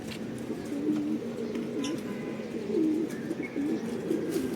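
Racing pigeons cooing during a training release, several soft repeated coos rising over steady outdoor background noise, moderately close with no talking.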